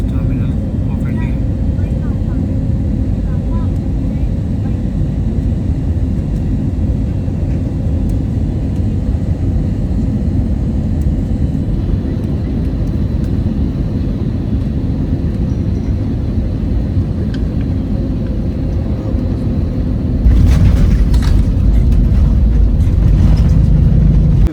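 An airliner lands at Mumbai airport, heard from inside the cabin as a loud, steady engine roar that swells into a heavier rumble near the end, with people talking faintly underneath.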